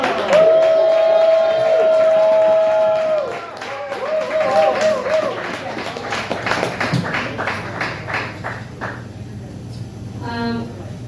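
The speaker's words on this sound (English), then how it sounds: "Let's all give a nice beacon round of applause for Hillary Fuller!" A comedy show audience applauds for a comedian. A sustained musical tone plays at first, then many hands clap in a lively, uneven patter that slowly thins out and fades.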